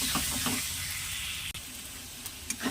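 Spice paste of chili powder and ginger frying in a pan: a continuous close sizzle with soft stirring scrapes and occasional sharper crackles, no voices.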